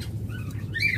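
Caged sweetheart doves and Naira doves at a bird sale give soft calls over a steady low hum of the market, with faint chirps rising near the end.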